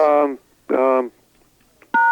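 Telephone keypad tones for a pound-sign press sound as two sustained touch-tone beeps with a short pause between them, followed by a brief burst of a voice, loud and near.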